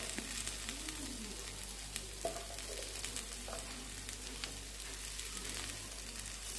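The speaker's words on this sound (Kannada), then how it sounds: "ಇವಾಗ ಇನ್ನೊಂದು ಸೈಡ್ 5 ಮಿನಿಟ್ಸ್ ನಾವು ಬೇಯಿಸ್ಕೊಳ್ಳಬೇಕು" Mackerel fish frying on a tava pan, a steady, soft sizzle with faint crackles and occasional stirring, no talk.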